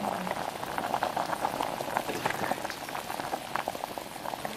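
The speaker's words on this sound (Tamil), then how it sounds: "நல்லா கொதிக்க ஆரம்பிச்சாச்சு." Mushroom soup thickened with cornflour bubbles steadily in a pot, a close, continuous boiling patter with no talking.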